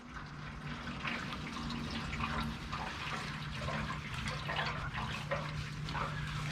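Engine oil draining from a 2022 Kenworth W990 truck in a steady gurgling pour, a continuous liquid stream heard fairly close over low background hum.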